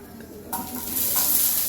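Bengali five-spice tempering hits hot oil for masoor lentils with a sudden, loud sizzle that keeps building and crackling steadily, close up and with no talking over it.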